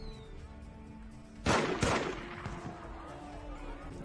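Two sharp, loud bangs close together, like fireworks going off, followed by a fading rumble and background murmur.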